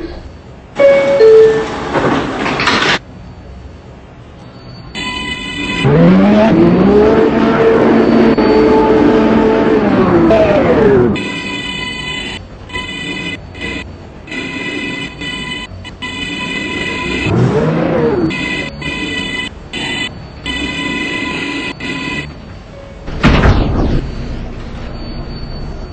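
R142A subway train on the 6 local line in Transit City 2, chimes sounding as doors close, then motor whine rising and falling as the train departs, with repeated door chimes and a loud burst near the end.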